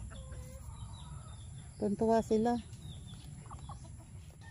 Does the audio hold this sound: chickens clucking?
yes